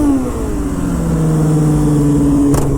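Car engine revving hard during a freestyle drift practice session with rolling burnouts, a loud, close, sustained mechanical roar whose pitch sweeps and holds without pause.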